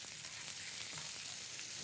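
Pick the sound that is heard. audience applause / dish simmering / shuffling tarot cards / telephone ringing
dish simmering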